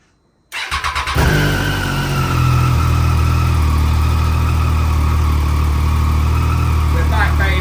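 A Triumph Daytona 675 motorcycle engine cranks briefly, catches and starts, then holds a loud, steady rev at close range, with a voice briefly audible near the end.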